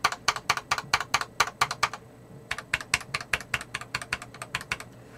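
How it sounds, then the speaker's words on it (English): Keys on a Royal Kludge F68 mechanical keyboard clack sharply and close up in quick rhythmic bursts, a run of rapid presses, a brief pause, then another run of fast repeated taps, with no voices. "let's hit the backspace a bit"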